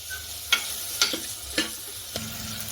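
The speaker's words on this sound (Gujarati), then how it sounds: "મેં ગુવાર અને બટેકા બંને એડ કરી દીધું છે હવે આપણે તેને સરસ રીતે મિક્સ કરી લેવાનું છે" Cluster beans and potatoes are stirred in a pan of hot oil, with four distinct scraping strokes about half a second apart over a soft, continuous sizzle.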